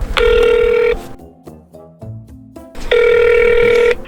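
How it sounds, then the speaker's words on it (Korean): A telephone rings in the earpiece while a call is placed to a shop: two loud, steady electronic ring bursts, each about a second long, with a quieter pause between them. "전화 한번 해볼게요."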